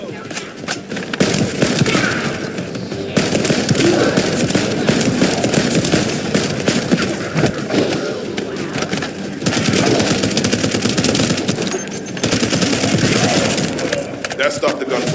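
Sustained automatic gunfire from the shooter game The First Descendant, loud, dense bursts that rattle almost continuously with short breaks, heard alongside voices.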